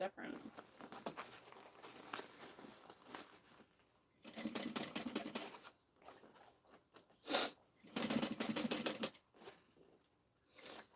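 Sewing machine stitching a backpack, bursts of rapid mechanical stitching that start and stop in several runs separated by short quiet gaps, close by, with a voice speaking at times.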